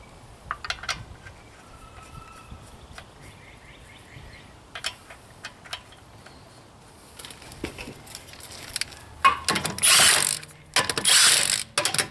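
A ratchet clicks in short bursts while snugging wheel lug nuts on a Honda Accord during a rear brake job, quiet and close with pauses, ending in louder, longer runs of rapid clicking.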